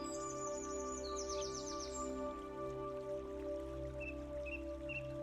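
Several birds sing and chirp outdoors, high thin calls and short trills over a steady low hum, fairly faint and distant, with no voices.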